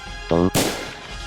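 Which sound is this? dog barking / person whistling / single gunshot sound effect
single gunshot sound effect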